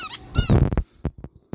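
A dog's squeaky toy being chewed, giving a quick cluster of sharp squeaks followed by a few shorter, separate squeaks, close and fairly loud.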